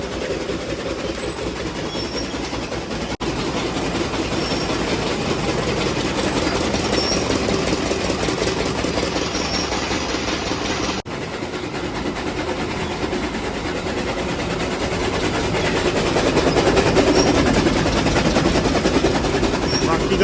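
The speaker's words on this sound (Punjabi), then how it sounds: "ਚੱਲ ਪਿਆ ਟੋਕਾ ਬਾਈ ਸਵੇਰ ਟਾਈਮ" A loud, continuous mechanical clattering and engine roar runs steadily throughout from a tractor-driven chaff cutter working close by in the morning.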